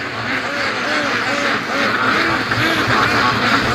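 Muscovy ducks quack repeatedly and loudly close by on a free-range homestead, a dense overlapping chorus of raspy calls over steady outdoor background noise.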